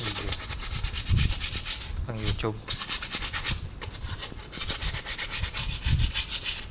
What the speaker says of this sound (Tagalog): Padaanan mo lang ng liha yan guys.